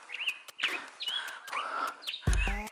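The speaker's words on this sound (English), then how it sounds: "Do you hear those birds?" Small birds chirping on a California hiking trail, a string of thin whistled calls and quick tweets close by, ending with a louder clattering noise.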